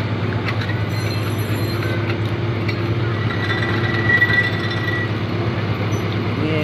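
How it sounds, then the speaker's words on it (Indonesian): A rail cart that had derailed rolls back along railway tracks in a residential neighbourhood, a steady loud rumble of wheels with metallic clinks and a brief squeal, near and continuous. "Wow, tampak ya lori mulai bergerak."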